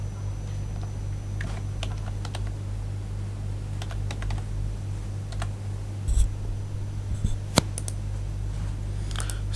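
Keys tapped on a keyboard while a username is entered on a mobile asset-mapping app: sparse, irregular light clicks over a steady low hum, with a few sharper taps near the end and no talk.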